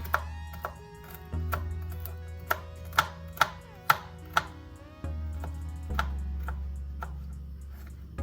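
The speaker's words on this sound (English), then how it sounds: "you're gonna cut them up just like you did the others into small bits that they can consume" A knife chopping carrots into small bits on a board, a series of crisp, evenly spaced thuds close by over a low steady hum.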